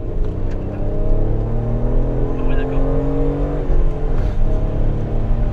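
Hyundai Coupé V6 pulling hard in second gear, a steady loud engine drone with rising tone filling the cabin while occupants talk over it.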